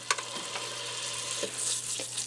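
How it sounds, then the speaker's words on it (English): Olive oil and butter sizzle on saute in a Ninja Speedi for French onion soup, a soft, steady hiss with a few light pops and clicks under a low electrical hum. "I'm going to add a little bit of olive oil, probably about 2 tablespoons, and about 1/4 of a stick of butter."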